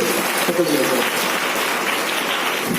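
An audience at a business seminar breaks into applause, a steady, even patter of many hands clapping for about three seconds at moderate loudness.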